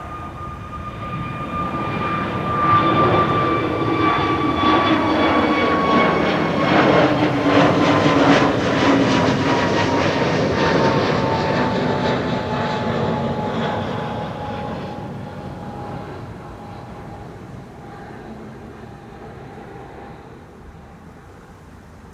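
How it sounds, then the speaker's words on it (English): An Airbus A321neo jet departs toward Edinburgh from Amsterdam Schiphol, its engine roar building over a few seconds, holding loud and broad with a faint whine, then slowly fading into the distance. "A321 Neo to Edinburgh."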